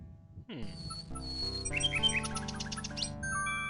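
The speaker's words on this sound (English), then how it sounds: "The little bird makes a delivery." A little bird chirps in a video game, giving a few quick, bright tweets over a sustained musical backdrop.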